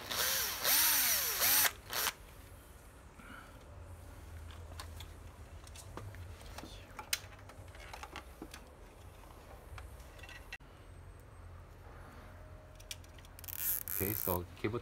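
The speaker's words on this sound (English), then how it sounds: "And screw back the fender screws" A power drill drives fender screws back into an Inokim Light electric scooter, with loud whirring bursts at the start and end and quieter clicks and handling noise in between, close up.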